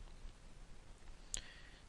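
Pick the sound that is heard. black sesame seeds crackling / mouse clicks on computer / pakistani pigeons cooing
mouse clicks on computer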